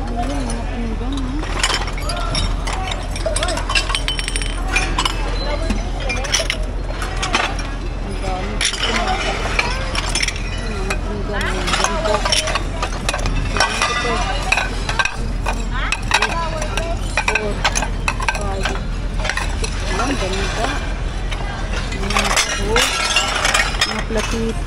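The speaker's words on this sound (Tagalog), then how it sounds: "Ayan, mga pinggan oh." Ceramic plates and saucers clink and rattle as they are handled and stacked among salvaged kitchenware, frequent light chinks under near-continuous talking.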